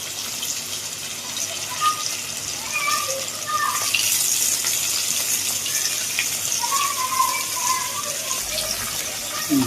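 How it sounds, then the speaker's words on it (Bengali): Fish frying in a pan at home: a steady, close hiss and crackle of hot oil continues throughout, with a low background hum and a brief voice near the end. "মাছটা আমি আলটি পাল্টি করে ভালো করে ভেজে নেব।"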